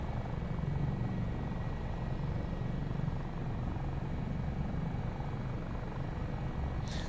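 An AS365 N2 Dauphin helicopter of 658 Squadron AAC flying over South Wales, giving a steady, moderately loud rotor and engine drone that holds throughout with no talk.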